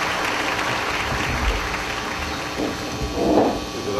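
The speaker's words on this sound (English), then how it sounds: "give them a big applause for coming tonight" Audience applause welcoming a discussion panel on Haiti's recovery, a broad steady wash of many hands clapping throughout, swelling slightly near the end, with a faint voice under it.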